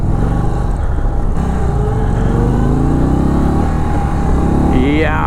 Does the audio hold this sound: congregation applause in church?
no